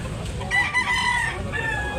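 A rooster crows at a chicken market, a close, loud, drawn-out call over a busy, murmuring background.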